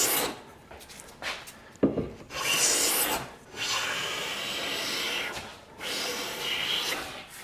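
A hand plane pulls a full-length shaving along a board being flattened for a wedding cake stand, giving a few long, close, loud rasping strokes separated by short pauses.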